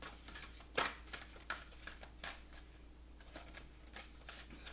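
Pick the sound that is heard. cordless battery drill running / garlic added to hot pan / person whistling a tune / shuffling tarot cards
shuffling tarot cards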